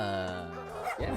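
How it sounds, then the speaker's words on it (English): A dog lets out a few strained, whiny yips and whimpers nearby, a person briefly speaking over the end of the sounds. "That's the sound of my dog trying to go poop."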